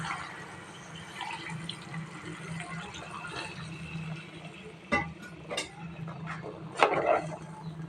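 Water poured into a chicken and potato curry in a cooking pot, a steady splashing pour close by, then a few sharp clinks of utensil against the pot near the end.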